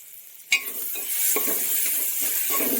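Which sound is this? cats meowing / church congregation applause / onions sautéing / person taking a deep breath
onions sautéing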